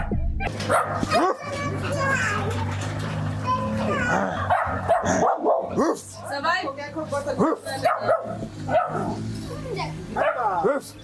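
A dog barks and yips repeatedly amid loud, overlapping talk and shouting from several people in a small African township, with children's voices mixed in.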